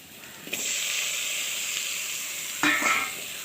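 Tomato sautéing in a pan for carrot chutney gives a steady, close hiss of sizzling oil, with a brief stirring scrape and clatter near the end.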